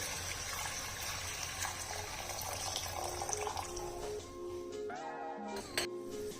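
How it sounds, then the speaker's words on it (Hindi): Jaggery syrup poured into ghee in a pan for sweet rice, a continuous close liquid pouring and gushing with some metallic clinks and a brief tonal whine near the end. "मैंने बंद करके इसमें ये मैं गुड़ की चाश डाल दूंगी"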